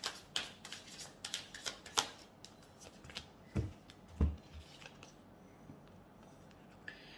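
Tarot cards are shuffled close by in quick bursts of soft papery riffles and taps, then a few slower, sparser card handling sounds, quiet throughout with no talking.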